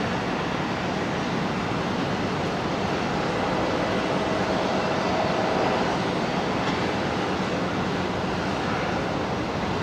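A Saab aircraft at Brisbane Airport gives off a steady, broad engine roar, loud and continuous for about ten seconds, rising slightly as it passes, with no talk over it.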